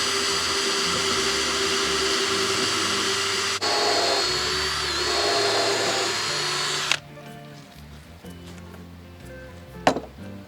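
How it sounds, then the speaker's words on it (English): A power drill drives pilot holes into oak for a shop bench, a steady close whine that shifts in pitch partway through, then stops, leaving faint workshop clatter and a sharp knock. "I'm going to go ahead and pilot these holes"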